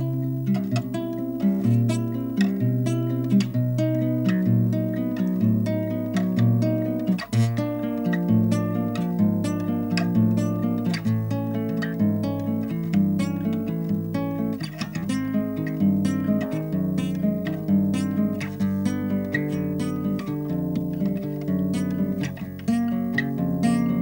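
A guitar finger warm-up exercise is played alone, with single notes picked in a steady, even rhythm that walk up and down the neck and shift through chord changes for about twenty-four seconds.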